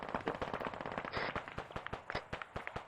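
Rapid bursts of automatic gunfire in the military shooter ARMA 3, loud repeated shots in quick rhythmic strings, close and dense, with no talk over them.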